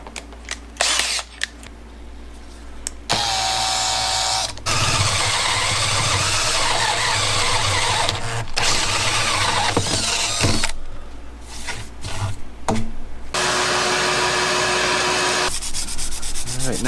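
A drill with a 1.5 inch Forstner bit bores a hole in a pressurized water tank, producing loud, sustained grinding bursts broken by short pauses and clicks.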